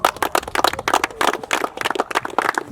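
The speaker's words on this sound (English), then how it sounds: "So give a round of applause for Tausif Ali." Audience applause at a club event, loud, dense clapping from a nearby crowd with quick irregular claps throughout.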